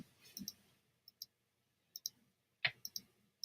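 A computer mouse clicks through Photoshop tools, about ten short, crisp, quiet clicks at irregular intervals, some in quick pairs, set against near silence.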